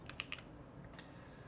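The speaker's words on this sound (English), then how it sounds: "we practice typing here too every day that I stream" A computer keyboard is typed on quickly during a coding stream, giving a faint, close burst of a few rapid key clicks, a pause, then another short cluster.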